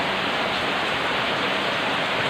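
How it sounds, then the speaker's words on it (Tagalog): Heavy rain pouring in a storm, a dense, loud, continuous hiss of water hitting surfaces with no pauses. "Grabing lakas guys oh."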